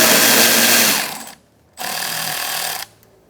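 Power ratchet with an 8mm socket spinning out a bolt on a 2014-2019 Kia Soul front bumper, two loud whirring bursts separated by a brief pause, close up.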